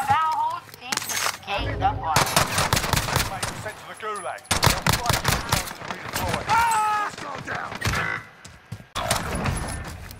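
Bursts of gunfire from Call of Duty: Warzone, with rapid automatic rattles and single shots repeating loudly through the stretch, mixed with game noise and voices talking over the action.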